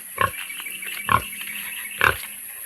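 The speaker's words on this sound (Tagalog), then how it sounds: "Baboy o dako kayo." A pig grunts three times at a steady, roughly one-second interval: short, close, fairly loud snorts against a quiet outdoor background.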